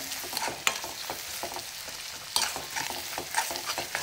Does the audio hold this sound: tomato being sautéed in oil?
yes